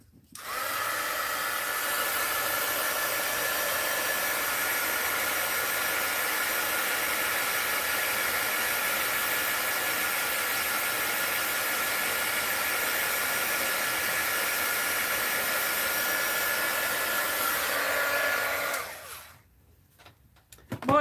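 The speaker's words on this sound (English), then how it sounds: "Heat gun alert." A heat gun blows hot air over wet paint on a mixed-media art journal page, a steady loud roar that holds for about eighteen seconds before cutting off abruptly.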